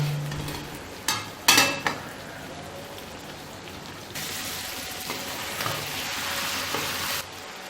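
Okra (bhindi) frying in a pan over a low flame, giving a steady, moderately loud sizzle with a few sharp clatters of stirring early on and a brighter crackling surge partway through.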